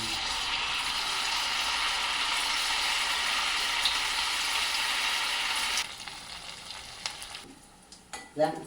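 Uppuma balls frying in hot oil give a steady, loud, dense sizzle for about six seconds, then the bubbling thins and turns patchy with a few clacks near the end.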